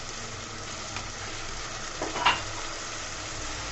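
Spice masala of red chilli powder, turmeric, salt and coriander-cumin powder frying in a pan, a continuous hissing sizzle with a couple of brief stirring scrapes midway.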